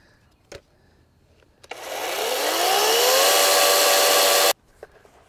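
A Greenworks Digipro 16-inch 40V electric chainsaw spins up from a trigger pull to a loud, high, whining run, its pitch rising as it accelerates, holds steady for about three seconds, then stops sharply. Nearby clicks come before it.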